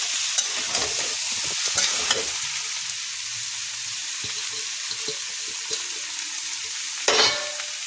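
Dum aloo potato curry with green chillies and fresh coriander is stirred in a frying pan: a steady sizzle with scraping spoon strokes and a louder clatter near the end, no voices.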